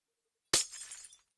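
A window pane shatters in Minecraft, a single sharp crash of breaking glass with a short tinkling tail, then another abrupt break starting at the very end.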